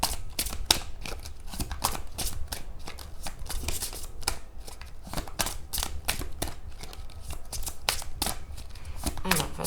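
Tarot cards being shuffled by hand, a long run of quick, crisp riffling clicks in an uneven rhythm, close and moderately loud, with a voice talking softly at times.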